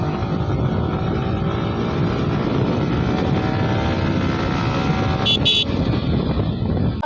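A Yamaha R15 V4 motorcycle accelerating flat out toward top speed: a loud, continuous engine roar mixed with heavy wind rush, steady throughout, with a brief high-pitched tone near the end.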